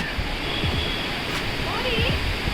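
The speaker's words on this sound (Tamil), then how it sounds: "பயங்கரமாக தண்ணி வருது." Heavy water gushes in a continuous roar along a scenic route in Munnar during the monsoon, loud and broadband, with faint voices under it.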